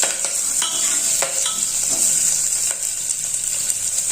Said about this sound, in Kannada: ನಾನಿವಾಗ ಇದೆಲ್ಲ ನೀಟಾಗಿ ಫ್ರೈ ಆಗಿದೆ ಆಯಿಲಲ್ಲಿ